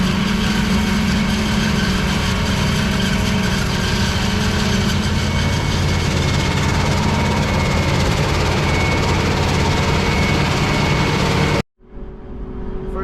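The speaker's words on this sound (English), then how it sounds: "So we got our FRA 50 New Holland chopper with our 12-row corn head zone today." A New Holland FR450 forage chopper with a 12-row corn head harvests tall corn in a dry-year field, its engine and cutting drone steady and loud for about eleven seconds before cutting off sharply to a quieter hum.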